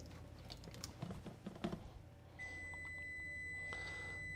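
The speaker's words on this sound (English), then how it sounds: "That would be the oven preheating to 400 degrees." A few soft clicks and taps, then a steady high electronic tone comes on and holds, an oven beeping alone as it preheats to 400 degrees.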